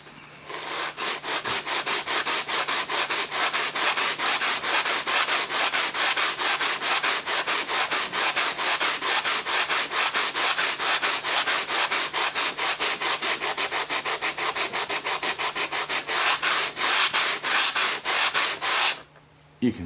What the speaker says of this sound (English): if you go over it with the Dremel, then take your block sander